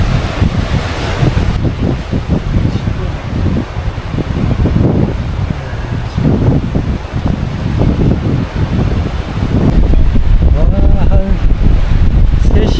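Strong wind gusts on a coastal walking path along the Haeparang Trail between Daebyeon harbour and Jinha beach, buffeting the microphone as a loud, continuous rumbling roar that swells toward the end.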